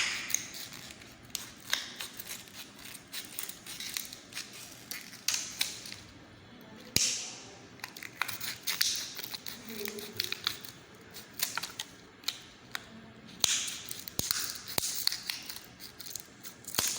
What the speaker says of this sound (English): Then you use your scissors to cut out.